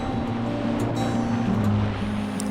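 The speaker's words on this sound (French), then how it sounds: "On a tiré le dinghy sur la plage, puis on a essayé de repartir le moteur." Small dinghy outboard motor on a beach, running with a steady, droning hum and a faint higher whine throughout, close and continuous.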